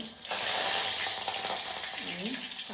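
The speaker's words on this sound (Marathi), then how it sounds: "आता तेल तापलं आहे, तर मी ही लसूण ना अशी चेचून घेतले सालीसकट, ती टाकते." Crushed unpeeled garlic cloves hit hot oil and burst into a loud, steady sizzle that holds for a couple of seconds, with a brief quieter moment before the garlic goes in and faint movement in the pan.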